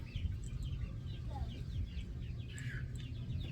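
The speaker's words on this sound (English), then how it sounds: "Huddy, will you shoo the chickens out of the garden?" Chickens clucking in a garden, a steady run of short clucks and calls at close range, mixed with low background rumble and other noise throughout.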